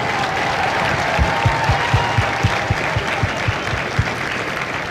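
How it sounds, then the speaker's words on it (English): Crowd applause for the drill instructors of Company G at a Marine Corps Recruit Depot San Diego graduation ceremony, a broad, steady wash of many clapping hands heard from a distance outdoors, with a few louder claps cutting through. "Would you join me in a final round of applause for the Marines who make Marines, the drill instructors of Company G."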